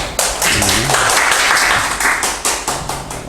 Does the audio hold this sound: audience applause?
yes